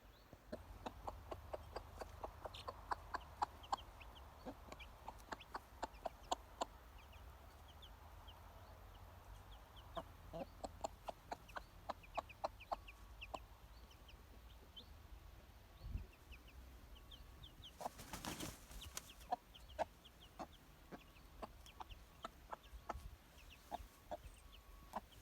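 A hen clucks repeatedly just after being let out of her coop outdoors, short close clucks in uneven bursts with a louder flurry partway through and no talking.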